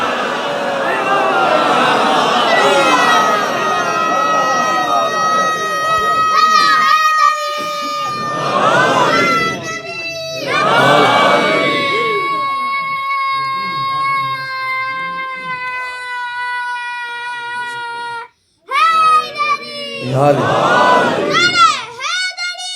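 At a majlis on the 21st of Ramadan mourning Imam Ali's martyrdom, a crowd chants slogans in loud repeated bursts. Between the bursts, a single preacher's voice carries sustained, tuneful recitation.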